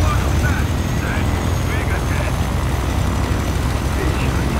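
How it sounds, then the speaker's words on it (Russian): An airplane engine roars continuously in the Ghost Recon Future Soldier video game, a loud, steady drone that fills the scene without pause. "Самолет начал движение."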